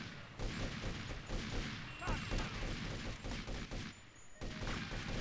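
Dense, continuous gunfire in a Grand Theft Auto Vice City shootout, with overlapping shots and bursts filling the whole stretch at steady loudness and a short lull near the end.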